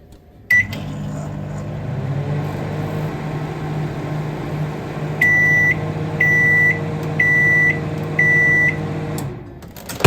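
A microwave oven hums steadily while it runs, then gives several short, evenly spaced beeps near the end before it goes quiet.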